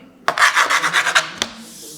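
A stone is scraped back and forth across a laminate floor panel. About eight quick, close, rasping strokes come in a steady rhythm, followed by a single knock.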